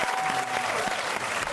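A short burst of studio audience applause at a TV music quiz show, many hands clapping together briefly.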